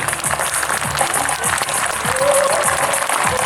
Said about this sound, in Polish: Wszystkie brawa prosto w kosmos.